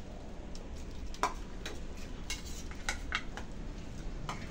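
Dishes and cutlery clink lightly and irregularly as a home-cooked Bengali meal of dal, fried aubergine, potato and fish is served onto plates, close but faint with no talking.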